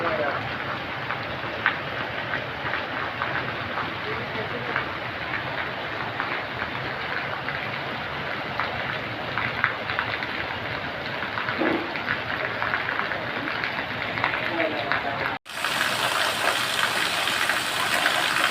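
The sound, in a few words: heavy rain pouring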